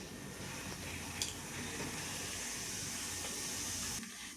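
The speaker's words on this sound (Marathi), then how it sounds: "मी राई घालते आहे, हे जिरं घालत आहोत आपण।" Mustard seeds and cumin sizzle in hot oil, a steady close hiss of frying with a faint pop or two, no talking over it.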